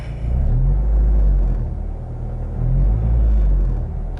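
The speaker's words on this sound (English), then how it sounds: "little bit of decel vibes there, you can hear that, but a little bit of dash rattle" Low, steady road rumble from a moving car on the decel at around 84, swelling twice as the cabin vibrates, with faint dash rattle buried in the drone; no talking.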